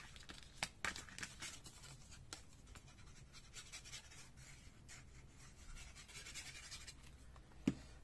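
Pen or marker writing in white on black cards for a Christmas card, quiet soft scratching and rubbing strokes close up, with no talk.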